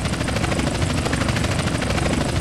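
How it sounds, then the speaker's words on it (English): A helicopter chases overhead in the video game GTA San Andreas, its rotor beating steady, dense and loud throughout with no break and no talking over it. "Chopper on our tail."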